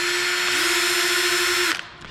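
A power drill spins at high speed with a steady, loud motor whine that holds continuously for under two seconds before cutting off, leaving a faint tail of room sound, with no talking over it.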